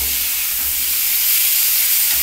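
Cauliflower goes into a little hot oil and sizzles with a loud, steady hiss and spatter, over a faint low rumble, with no talking.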